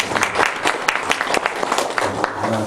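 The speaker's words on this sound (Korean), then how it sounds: "우리 마리아 여전도에서 좀 한번 박수 한번 쳐주세요" Applause from a church congregation at a New Year thanksgiving service, steady clapping from many hands with a few sharper claps standing out, fairly close and without talk over it.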